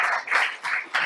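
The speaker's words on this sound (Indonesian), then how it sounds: "tepuk tangan buat Kak Willy" An audience claps for a guest at a talk on non-party politics, a brief patter of applause rising and falling in soft waves.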